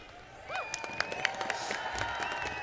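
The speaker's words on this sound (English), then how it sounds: "Governor-elect Whitmer applauding" An audience at the 2019 Michigan inauguration applauds, scattered claps rising into steady moderate clapping with some crowd murmur, while a voice talks over it.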